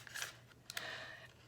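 Scissors snip through a cardboard toilet paper roll in a few quick, close cuts, with a brief sharp snip followed by a longer drawn-out slice.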